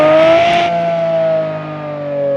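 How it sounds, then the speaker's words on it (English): A Lamborghini Murcielago SV with an upgraded exhaust in BeamNG.drive holds a loud, smooth high-pitched engine drone that sustains with a slight dip in pitch, opening with a short breathy rush. "This one has an upgraded exhaust, which makes it sound heavenly."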